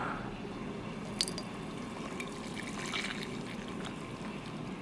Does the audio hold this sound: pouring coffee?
yes